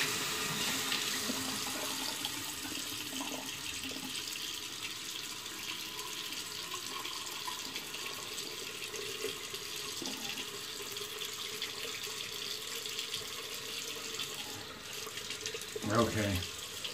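A sink tap runs steadily while a shaving mug is rinsed, making a continuous close hiss of flowing water with a short splash and gurgle near the end.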